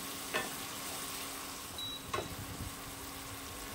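Frying until reddish brown for a Kerala-style egg curry, a quiet steady sizzle in the pan with a couple of brief spatula scrapes, close by and without talk.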